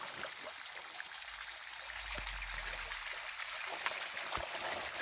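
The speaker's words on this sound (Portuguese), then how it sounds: "Dá para ouvir claramente o som da água caindo lá embaixo" Water falls and trickles somewhere far below a forest trail, a faint steady rushing hiss with a few soft drips and taps, no voices.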